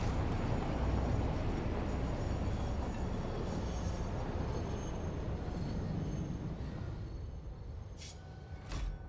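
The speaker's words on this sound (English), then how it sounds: "I do forget sometimes how loud trains are." Train rumbling along the tracks in the video game Satisfactory, a loud continuous low roar with clattering that stays steady, then eases slightly near the end with a couple of brief high squeals.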